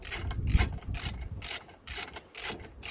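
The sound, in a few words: tightening the brake caliper bolt on a Mercedes GLB 200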